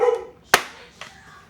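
A dog gives a sharp, close bark followed by a fainter second yip a moment later, alone in a quiet indoor space.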